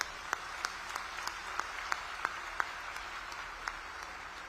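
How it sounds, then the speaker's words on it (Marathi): Crowd applause at a large farmers' rally in Manchar, a crisp, steady patter of many hands clapping at a fair distance, with sharper individual claps popping out at irregular moments throughout. "मी सर्व स्त्री पुरुषांना विनंती करतो की आपण एकदा सगळ्यांनी हात वर करून या आपल्या पाहुण्यांसाठी टाळ्यांचा कडकडाट करायचा"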